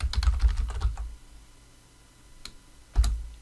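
A username is typed on a computer keyboard, a quick cluster of close key clicks followed by a pause and a single final keystroke, with no voices.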